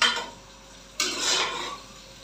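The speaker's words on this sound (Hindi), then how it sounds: "लहसुन प्याज मैंने ऐड कर दिया, अच्छी तरह इसकी फ्राई करती हूँ" Garlic, onion, tomato and chilli fry together in a pan in a home kitchen, a spoon scraping and stirring with a sharp clatter midway over a soft background sizzle, with no talking.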